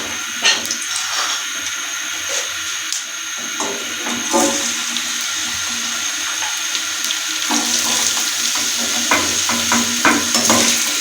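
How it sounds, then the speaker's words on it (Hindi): Carrots fry in a frying pan on a stovetop while an Afghani pulao is prepared, a bright steady sizzle with scattered pops and some stirring clatter heard up close. "और साथ ही हम दूसरे चूल्हे पर अभी फ्राई पैन रख दिया है और इसमें हमने गाजर को फ्राई करना है।"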